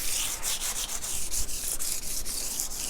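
Rhythmic scratchy rubbing of 400 grit sandpaper over the frets of a 2019 Fender Deluxe Nashville Telecaster, with quick repeated back-and-forth strokes, close and fairly loud, with no talking.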